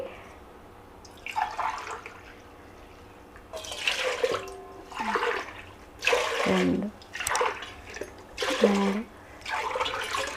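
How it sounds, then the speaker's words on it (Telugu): Water is poured from a measuring glass into a thick-bottomed rice cooker pot for sago and sesame vadiyalu, in several separate splashing pours with brief pauses. A voice counts between the pours. "నాలుగు గ్లాసులండి నీళ్లు పోసుకోవాలి"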